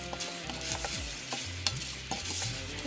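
Bulgur being roasted in a pan for a vegan apricot breakfast, stirred with a spoon, giving soft crackling sizzle and repeated scraping strokes close up, with no voices.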